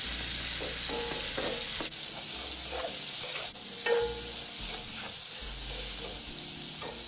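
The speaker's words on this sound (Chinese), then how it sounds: "这虾大火过个油，1分钟左右就好，然后沥干油分捞起。" Shrimp flash-fry in hot cooking oil over high heat, giving a steady bright sizzle and crackle with occasional scraping stirs, close and fairly quiet, with no talking.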